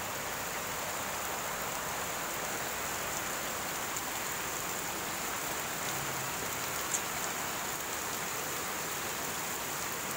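Heavy rain pours in a steady, dense hiss across the whole stretch, loud and close with no pauses, a constant wash of falling water.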